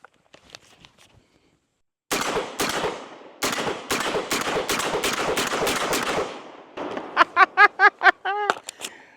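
A Genesis Gen-12 12-gauge short-barreled shotgun fires whitetail slugs in rapid succession, a run of loud booming shots followed by a quicker burst of sharper blasts, after a few faint clicks at the start.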